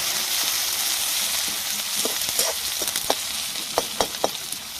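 Onions frying in hot oil for a village snail recipe, a continuous bright sizzle with scattered crackles and pops growing more frequent toward the end.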